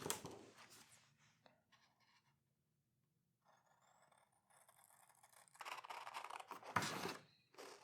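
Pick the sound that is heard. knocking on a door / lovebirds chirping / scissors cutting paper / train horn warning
scissors cutting paper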